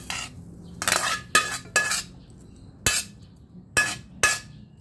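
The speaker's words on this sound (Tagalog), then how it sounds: "Igigisa ko lang itong aking isang hotdog para uminit siya." A single hotdog being sautéed in a pan to warm it, heard as a series of sharp metallic clinks and scrapes of a utensil against the pan, spaced irregularly over low background noise.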